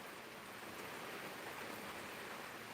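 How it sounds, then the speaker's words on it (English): Steady, soft rain falls outdoors in the afternoon, an even hiss with no distinct drops and no voices. "now it's raining again"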